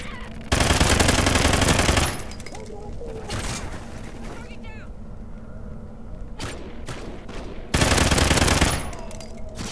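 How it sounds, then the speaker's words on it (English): Heavy thermal gun in Call of Duty Ghosts unleashes two long, loud sustained bursts of rapid automatic fire, separated by a quieter stretch of scattered single shots and clicks. "Picked up a heavy thermal gun. It's time to go ham."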